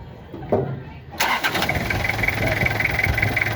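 A car engine with no thermostat cranks and catches, then settles into a steady idle hum close by after a brief quieter moment.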